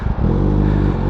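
A Kawasaki Ninja ZX6R 636 sport bike fitted with an SC Projects exhaust settles into a loud, close, deep idle with a steady low burble after a rough catch at the start.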